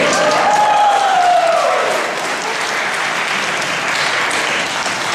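A crowd applauds loudly and steadily, sustained clapping filling the room before easing slightly toward the end.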